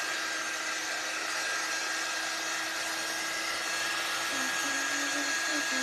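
A hair dryer blows steadily on the back of a craft transfer, a continuous close whooshing roar with a faint whine that holds nearly unchanged throughout.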